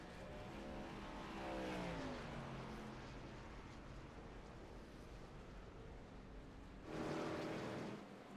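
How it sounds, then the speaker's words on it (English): A race truck's engine is switched off in the pits during a Make A Wish charity race: a loud motor note winds down and drops in pitch, then another engine roars briefly nearby near the end. "You can hear him shutting the truck off."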